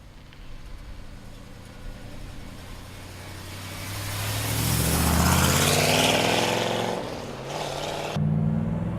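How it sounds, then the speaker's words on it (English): A red 1968 Chevrolet Chevelle SS with a big-block engine and 4-speed drives by, a loud engine roar building to a peak mid-clip and then easing off, with no talk. "let's take a 68 Chevelle for a ride. Big block, 138 car, numbers matching, red on red, 4-speed."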